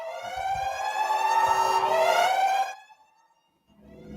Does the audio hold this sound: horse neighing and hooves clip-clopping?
no